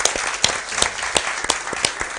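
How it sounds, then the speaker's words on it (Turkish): Studio audience on a Turkish travel show breaks into applause, a steady wash of clapping with sharper accented claps punctuating it at regular intervals, moderately loud and close. "Bir alkış alalım."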